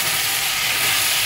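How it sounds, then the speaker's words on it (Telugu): Onions and potatoes frying in a pan, giving off a steady, loud, hissing sizzle that holds unbroken throughout. "చూడండి ఆనియన్స్ వేగుతూ ఉన్నాయి కదా, ఆనియన్స్, బంగాళదుంపలు ఇలా వేగుతూ ఉన్నాయి కదా."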